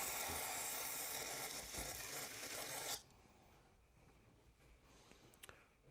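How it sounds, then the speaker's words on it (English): Aerosol carburetor cleaner sprays hard into a jar while a Cub Cadet 3224 3200 psi pressure washer carburetor is cleaned, a loud steady hiss lasting about three seconds and cutting off abruptly, followed by faint small clicks. "spray some cleaner into this jar here"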